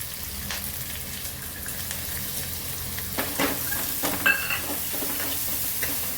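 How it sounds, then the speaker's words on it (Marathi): Chili, ginger, garlic and curry leaves sauté in a hot pan, crackling and sizzling continuously with scattered spatula scrapes and pops growing busier toward the end, close and without speech. "छान परतून घ्यायचं."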